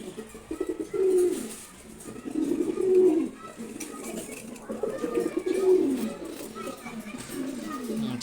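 Giribaz pigeons coo close by in repeated throaty bursts, several soft rolling calls rising and falling over a light background hiss.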